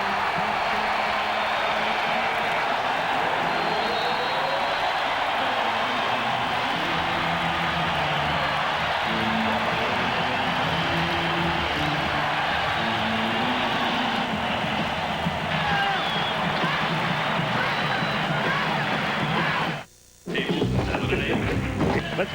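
Loud, sustained roar of a basketball arena crowd on its feet during a 1994 NBA playoff game between the Houston Rockets and Portland Trail Blazers, a dense wall of cheering with a brief cutout near the end.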